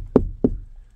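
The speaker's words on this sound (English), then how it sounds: "Hello? I'll knock first." Two sharp, solid knocks land on a door of an abandoned house on a crumbling seaside street on the Isle of Wight, spaced about a quarter second apart, loud and close with a short decay.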